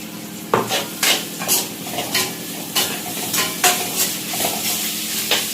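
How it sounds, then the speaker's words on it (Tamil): Ginger garlic paste sizzles with vegetables in a pan while a spoon scrapes and knocks the metal in a steady rhythm of close, distinct strokes over a continuous fry. "இப்போ நம்ம கொஞ்சமாக இஞ்சி பூண்டு பேஸ்ட் கொஞ்சம் போட்டுக்கலாம்"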